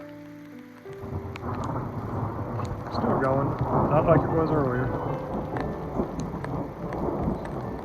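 Thunderstorm rolling through on the Colorado Trail, with steady rain and low thunder rumbling continuously beneath someone speaking close by; a faint wind or hiss persists throughout.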